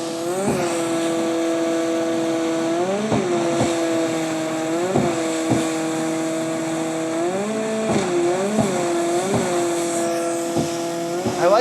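A video game jet ski engine plays loudly through a Mackie CR StealthBar soundbar, a droning motor whose pitch repeatedly dips and rises as the craft bounces, with sharp splashes of waves hitting the bow.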